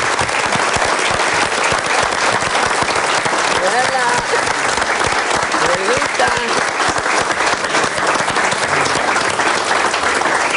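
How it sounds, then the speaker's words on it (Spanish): Studio audience on a televised courtroom show clapping in a loud, continuous burst of dense applause, with faint voices briefly surfacing beneath it. "Vamos todos a recibir a Bela con un aplauso y con nuestro corazón abierto."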